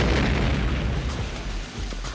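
A grenade explosion rumbles as a loud, broad boom and fills the whole short span with a dense, roaring wash that slowly fades.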